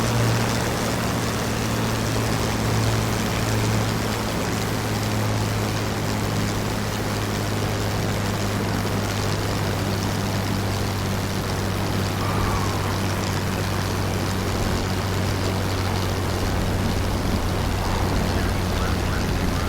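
A propeller airplane in a video game drones steadily through a landing, a loud continuous engine hum with a low tonal whine that holds level throughout, no voices over it.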